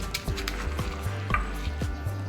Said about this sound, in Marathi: हा खलबत्ता थोडा छोटा आहे त्यामुळे मी आता हे थोडं थोडं घेऊन ठेचून घेणार आहे